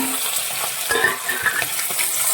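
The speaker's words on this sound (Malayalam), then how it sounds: "വെച്ചിരിക്കുന്ന ഈ പച്ചമുളകാണ് നമ്മൾ എണ്ണയിലിട്ട് വഴറ്റുന്നത്" Green chillies sautéed in hot oil, giving a loud, dense, continuous sizzle with brief scrapes of stirring, close up and without any voice.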